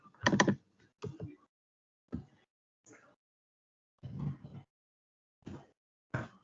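Keys clatter on a computer keyboard in short, separate bursts with silent gaps between them, close and clear.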